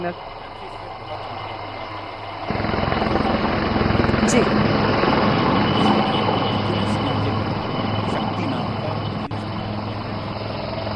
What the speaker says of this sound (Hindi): ये एडवांस लाइट हेलीकॉप्टर्स फिर से यहाँ से उड़ान भरते हुए दिखाई दिए